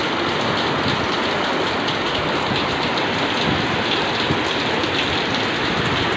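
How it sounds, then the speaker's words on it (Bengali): Heavy night rain in Dum Dum, Kolkata, falls as a dense, loud, unbroken roar of drops pounding surfaces, steady throughout with no voices. "গতকাল রাতের বৃষ্টি দেখুন।"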